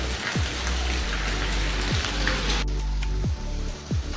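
Steady rain patters and hisses loudly and close by, with a few low thuds underneath and a sudden drop in the wash of sound partway through.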